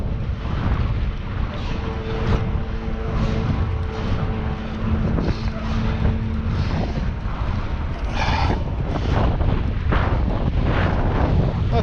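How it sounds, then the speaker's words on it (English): Strong headwind roars across the microphone while cycling along a road, a loud, steady, buffeting rush that fills the whole stretch without a break. "That's pretty harsh headwind."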